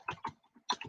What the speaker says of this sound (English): typing and talking at the same time doesn't always work